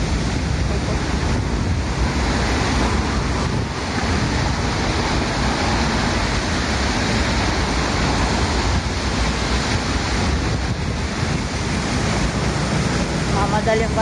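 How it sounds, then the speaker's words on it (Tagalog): Sea waves wash steadily onto the shore in a loud, continuous roar mixed with wind buffeting the microphone, and a voice can be heard faintly underneath. "May alon dito."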